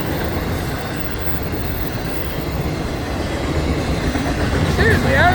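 A Florida East Coast Railway train passes close by, a loud continuous rumble of rolling wheels and railcars with rhythmic clatter, and a brief wheel squeal near the end.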